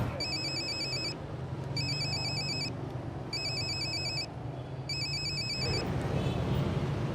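A mobile phone rings in four loud, repeating electronic bursts separated by short gaps, with a low engine rumble underneath.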